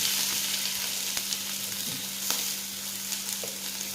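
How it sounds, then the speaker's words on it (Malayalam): Chopped ingredients hit hot oil in a pan and fry with a steady, close sizzle that holds for the whole stretch, with a few faint stirring clicks and no voices. "നമുക്കിതിലേക്ക് ഈ അരിഞ്ഞ് വെച്ചേക്കുന്ന സാധനങ്ങളെല്ലാം കൂടെ പൊട്ടിക്കൊടുക്കും."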